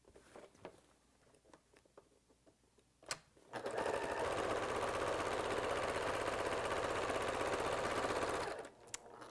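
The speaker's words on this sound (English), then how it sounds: "Or you can just pivot around the corners as I'm doing here." A sewing machine chain piecing 10-inch quilt squares starts after a few soft handling taps, then runs in a fast, even, close stitching drone for about five seconds before stopping.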